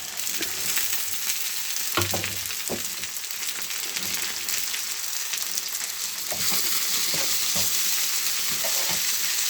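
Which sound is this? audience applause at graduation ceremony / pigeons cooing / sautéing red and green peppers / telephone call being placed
sautéing red and green peppers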